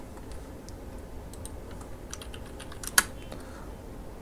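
Quiet keyboard typing at a computer while working in PowerPoint, a few soft scattered key clicks with one sharper keystroke standing out near the end.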